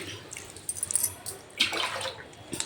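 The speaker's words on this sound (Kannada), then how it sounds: "ಬಾಳೆಕಾಯಿ ಎಷ್ಟು ಬೇಕೋ ಎಷ್ಟು ಮುಳುಗುತ್ತೋ ಅಷ್ಟು ನೀರು ಹಾಕ್ಕೊಂತಾರೆ" Water splashes and trickles into a vessel holding raw bananas in short irregular bursts, with a louder pour near the middle.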